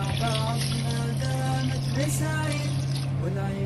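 Water pours steadily over rice in a home kitchen to soak it, a continuous close splashing with a low hum and faint voices in the background.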